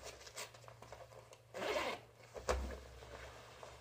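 A long leg zipper on Savage Gear Proguard Thermo trousers is pulled, making a close, rasping zip of about half a second, followed by a shorter zip and light fabric rustling.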